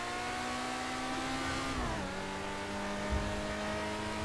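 A fast Lamborghini engine from GTA 5 holds a steady loud drone, its pitch dipping partway through as it shifts, then carrying on alone without talk.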